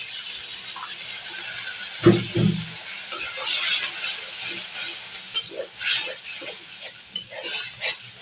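Sizzling spices and ginger garlic paste in a pan as a little water is poured in, with a sudden loud burst of hiss followed by repeated scraping stir strokes and crackling, close and fairly loud.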